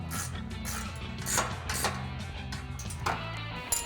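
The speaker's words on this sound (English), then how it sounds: "we'll tighten down the top one with a 13mm ratcheting wrench" A 13mm ratcheting wrench clicks steadily as it tightens a bolt on a Jeep Gladiator running board bracket, rapid metallic ratchet clicks in short strokes, close and moderately loud.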